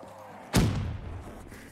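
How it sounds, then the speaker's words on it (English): A grenade going off in Black Ops 3 custom zombies, a single muffled thud with a short rumbling tail, moderately loud over quiet game ambience. "Let me throw my grenade here."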